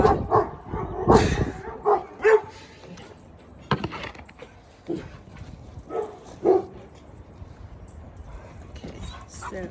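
A dog perched up in a tree barks in several sharp bursts at passersby, spaced irregularly over a quiet outdoor background, with some faint voices between barks.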